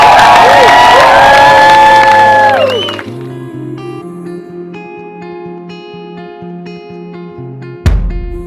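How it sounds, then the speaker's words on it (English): A crowd at a fire show bar in Thailand whoops, cheers and applauds loudly, then fades out as music with a steady bass line takes over, punctuated near the end by a sharp hit. "please give a warm welcome and a big round of applause for our first performer, Descibe!"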